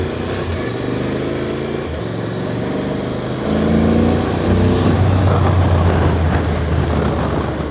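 A Honda NC750X motorcycle rides through Falomo Square in Ikoyi, Lagos, Nigeria, its steady engine drone and road noise continuous and close, the note rising slightly as the bike picks up pace midway.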